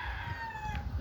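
A chicken calls with a brief, drawn-out tonal note, faint and somewhat distant, over a low rumbling background, lasting about a second.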